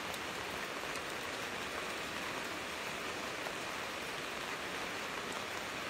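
Steady rain falls on Jl Andi Makkasau, a street in Mamuju, as an unbroken, even hiss of drops with no voices.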